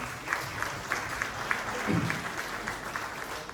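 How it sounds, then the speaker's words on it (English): Audience applause rings out for a family at a community tribute event, a moderate steady round of clapping with a few distinct claps and a brief voice murmuring underneath. "Give the family a round of applause for that."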